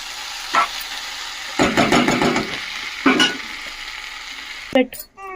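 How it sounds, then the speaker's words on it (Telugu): Ivy gourd and potato pieces deep frying in a pan, a steady sizzle broken by a few louder bursts of stirring and spattering, close and alone without talk. "ఇది ఇంకా అవ్వాలండి, డీప్ ఫ్రై అవ్వాలి"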